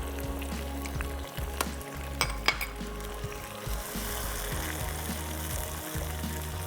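Spinach, coriander-mint and garlic-ginger pastes go into a hot pot for yakhni pulao, giving a steady close sizzle and frying hiss with a few stirring scrapes and clinks, no voices.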